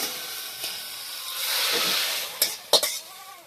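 Cauliflower frying in a pan gives a steady hissing sizzle that swells in the middle, followed near the end by a few sharp clatters and knocks close by. No one speaks.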